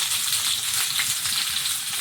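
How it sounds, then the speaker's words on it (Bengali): Pieces of taro (kochu) fry in hot oil with a steady, close, crackling sizzle that holds evenly throughout, with no voices. "এগুলো ভেজে নিয়ে কচুটা ভেজে নিচ্ছি"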